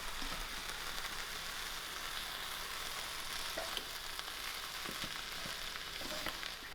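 Turkey stuffing sizzles and crackles in a pan on the stove while it is stirred, a soft, steady fry broken by occasional scraping and clinking strokes.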